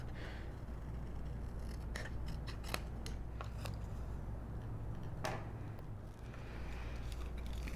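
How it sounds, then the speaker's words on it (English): Paper corners snipped with scissors during album making, a series of sharp, quiet cuts at irregular intervals, close up over faint room hum. "then we'll trim our corners"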